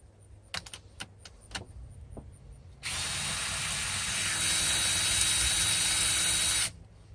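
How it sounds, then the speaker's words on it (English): A power tool removes a bolt from a Mazda rotary engine during a teardown. A few sharp metallic clicks come first, then a loud, close whir runs steadily for about four seconds, rises partway through and stops abruptly. "I just wanted you guys to kind of see this bolt as I take it out."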